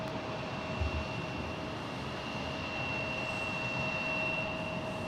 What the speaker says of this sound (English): Here's the Frontier flight in from Las Vegas.